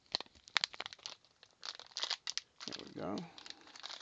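Plastic packaging of an electronics lab kit being opened by hand, soft crinkling and rustling in short bursts with a longer tearing crinkle near the end, close and quiet, with someone speaking briefly.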